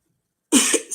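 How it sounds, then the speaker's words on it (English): A short cough fit breaks an otherwise silent moment: two quick, close, raspy coughs about half a second apart, loud and unaccompanied by talk. "excuse me again, little cough fit."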